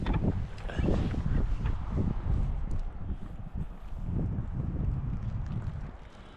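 Gusty wind buffets the microphone out on a frozen lake during ice fishing in windy, rainy weather, a loud continuous rumble that surges and eases with the gusts.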